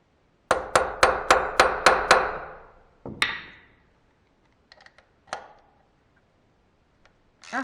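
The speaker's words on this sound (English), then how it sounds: "try to spin them off with a chisel" A hammer strikes a chisel on stripped bolts of a junkyard Ducati Multistrada 620 motorcycle: six sharp, ringing metallic blows in a steady rhythm, then a louder single hit and a few scattered lighter taps, close and alone.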